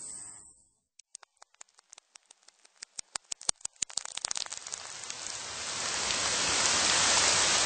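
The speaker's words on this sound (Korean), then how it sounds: "아버지가 죽고 얼마 지나지 않아 마을에 비가 내렸다." Rain begins as a sound effect in a Korean audiobook reading: sparse single drops tap one by one, quickening into dense patter and then a steady, close, loud downpour, with no voice over it.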